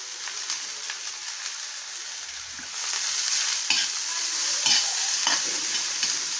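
Green chilies, tomatoes, carrot and cabbage sizzle and fry on a tawa over lowered gas while a spatula stirs them, a steady crackling hiss punctuated by scraping strokes that grow slightly busier toward the end.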